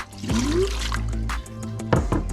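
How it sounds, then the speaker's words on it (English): Two cups of water poured into pawpaw pulp for pawpaw butter, a close liquid splash and trickle with a rising gurgle, followed by a few knocks, with no talking. "the next step says to add the 2 cups water"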